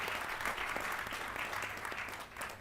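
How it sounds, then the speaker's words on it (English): Audience applause for a government minister at an education event on the future of learning: steady, dense clapping from a sizeable crowd, sustained throughout and easing slightly toward the end. "a warm round of applause for the Minister."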